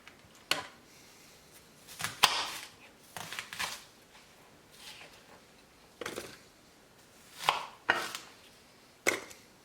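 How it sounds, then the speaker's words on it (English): Onion chopped into smaller pieces with a knife on a board, heard as sparse clusters of close, sharp cutting knocks separated by quiet gaps. "Onion, cut it in smaller pieces."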